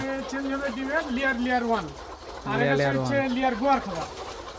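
Hens at a layer chicken farm cluck and call in drawn-out, wavering tones, close and fairly loud, with people talking quietly in the background.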